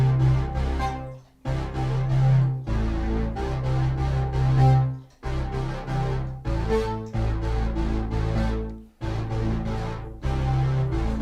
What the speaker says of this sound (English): The bass line I've got sounds something like this.